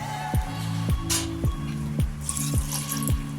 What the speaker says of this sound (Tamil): இந்த கப் 1 கப் தண்ணி ஊற்றிடலாம்